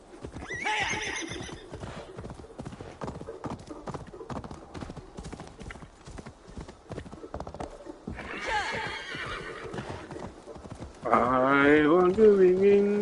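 Hooves clip-clop rhythmically and close by while a horse neighs loudly several times, the last whinny long and shrill.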